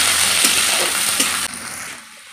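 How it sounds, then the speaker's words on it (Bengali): Chopped onions and green chillies frying in hot oil, giving a loud, steady sizzle close by that drops to a quieter hiss partway through. "পেঁয়াজটাকে লাল করে ভেজে নিতে হবে।"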